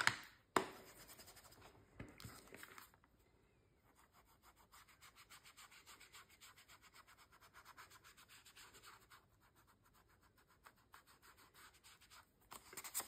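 An ink pad is rubbed along the edges of a large paper junk journal tag, with scrap paper tucked in as a mask. Quiet, rhythmic scratchy strokes repeat steadily, with a couple of sharper taps near the start.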